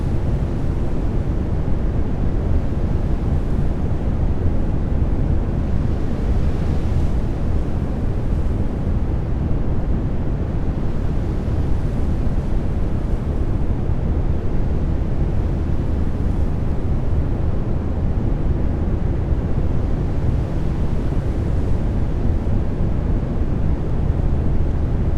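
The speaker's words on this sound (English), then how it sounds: "Look at the lovely waves coming in on the ship." Waves washing against a ship in the NAUTIS home ship simulator game, a continuous loud low roar of surf and wind that rolls on steadily without a break and with no voices.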